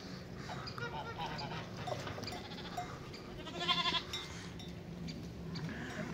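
Dairy lambs reunite with their mother sheep, bleating in overlapping calls against a busy outdoor background, with one louder bleat standing out near the middle.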